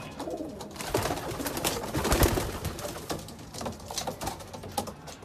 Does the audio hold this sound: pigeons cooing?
yes